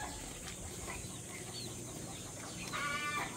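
Chickens cluck softly and intermittently in the distance, faint against a steady background hiss.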